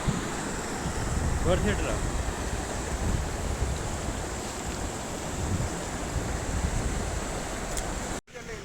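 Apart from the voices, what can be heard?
rushing water at the base of Sissu waterfall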